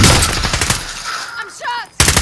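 Bursts of automatic gunfire in Call of Duty Warzone crack loudly at the start, then fall quiet briefly before another sharp volley cuts in at the end.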